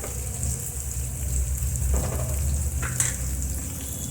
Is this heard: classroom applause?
no